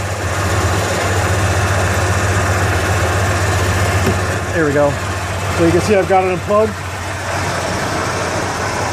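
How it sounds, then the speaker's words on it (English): A Ford engine runs rough and sputters as its fuel pressure falls with the fuel pump relay unplugged, a steady low idle drone with uneven stumbles, and someone talks over it. "The engine is sputtering, smelling really bad now."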